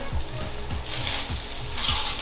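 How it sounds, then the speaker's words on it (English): A pan loaded with browned fond sizzles loudly as alcohol hits it for deglazing, a dense hiss with repeated low scraping knocks from stirring, close and continuous. "I like to deglaze the pan with a little alcohol"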